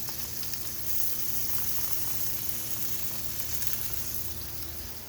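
Steady, close sizzling and crackling of chopped garlic and green onions frying in a hot pan, continuous and fairly loud throughout, with no talking.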